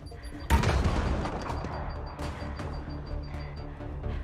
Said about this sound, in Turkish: Oo bomba attı.